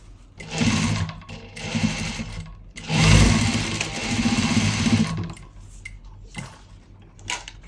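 A sewing machine stitching a skirt, its motor whirring in several bursts of rapid needle clatter, the longest in the middle, close and loud, followed by quieter handling clicks.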